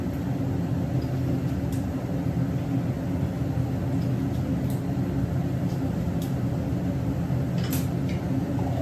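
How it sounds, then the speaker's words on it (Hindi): A kitchen mixer grinder grinding chopped tomatoes runs continuously, giving off a loud, steady motor whir with a low rumble underneath. "अब इन टमाटर को काट के मिक्सी में पीस लेती हूँ"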